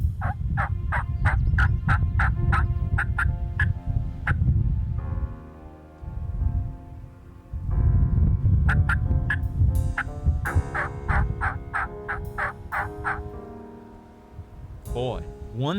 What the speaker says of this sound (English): maybe we'll get a play on a gobbler